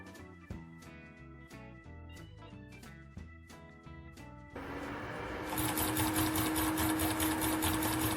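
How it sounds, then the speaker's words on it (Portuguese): A homemade magnetic solenoid V1 motor runs on a plugged-in power supply with steady rapid mechanical clattering. It changes partway through into a louder, denser buzzing whir that holds at a constant, even rate. "Tá aí o nosso motor funcionando, um motor muito legal de se fazer"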